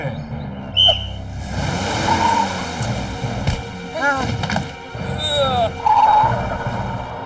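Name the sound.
whistle being blown in a cartoon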